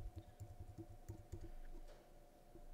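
Numbers are typed on a computer keyboard at a printing station, with quiet, close keystrokes tapping in a quick irregular rhythm before a short pause.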